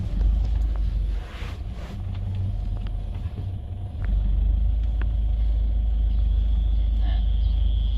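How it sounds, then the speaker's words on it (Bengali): A car pulls away in first gear and speeds up. A low engine rumble swells as it accelerates, with wind buffeting the microphone. "এক নাম্বার দিয়ে চালাইতেছে, এখন গতি বাড়াইতেছে"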